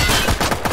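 Loud, continuous gunfire in Escape From Tarkov, a rapid rattle of shots packed closely together with a slight dip midway, sounding near and heavy.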